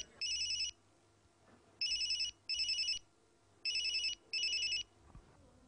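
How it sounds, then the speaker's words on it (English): A mobile phone rings with a synthetic electronic ringtone in four paired bursts separated by short pauses, clear and fairly close against a quiet background. "All of a sudden, the mobile phone of one of the terrorists rang."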